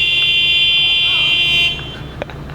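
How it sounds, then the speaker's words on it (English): A car horn blares in a sustained high tone in traffic, cutting off abruptly, followed by quieter road noise and a short knock. "everyone's honking for no reason"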